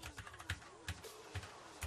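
Quiet, close keyboard typing: a steady run of soft key clicks with a few heavier taps, no voices.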